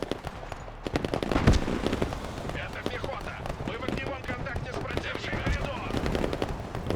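Rapid bursts of machine-gun and rifle fire from infantry weapons teams in the military strategy game Broken Arrow, crackling close and continuous over a few seconds with overlapping shots.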